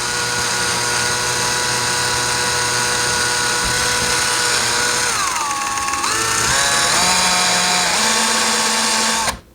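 A power drill runs steadily, slowly starting a hole in drywall, its whine holding then dipping in pitch and rising again in stages before cutting off at the end; loud and close with no talk.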